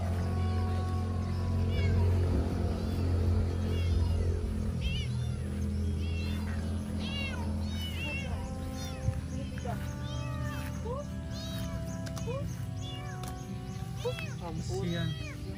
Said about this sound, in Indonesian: Pika, tuh ada anak kucing.